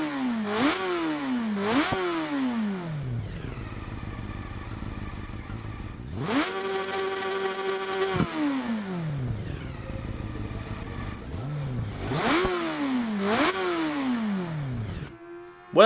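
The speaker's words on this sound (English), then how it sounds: "The CBR 900 just has a note that is spectacular." A Honda CBR900RR FireBlade (SC28) in a video game revs hard several times, its engine note sweeping up sharply and falling away between bursts, with a sustained high-rpm howl in the middle.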